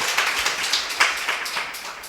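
A church congregation at Sunday worship claps hands together, producing a steady, dense patter of many hands at once, fairly loud and continuous for about two seconds.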